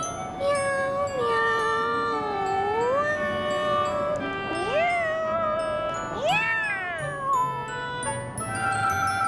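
A cat meows in long, drawn-out, rising and falling wails that repeat several times, close and loud, with faint tinkling in the background.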